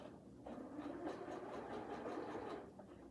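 A sewing machine stitches a pillow cover at a slow, steady pace for about two seconds, its soft rhythmic whir up close and fairly quiet, with no talking.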